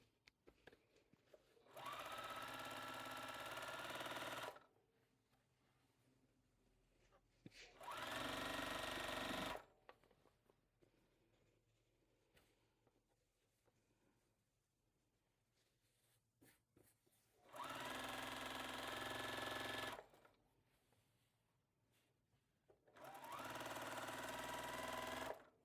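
A sewing machine stitches the center of a Freedom Song quilt in four steady, whirring runs of a few seconds each, separated by quiet pauses, close and clear with no talking.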